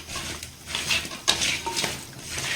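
Goat head meat being mixed with masala in a metal pan, close clinks and scrapes of a spoon against the pan in an uneven rhythm, moderately loud, with no talk.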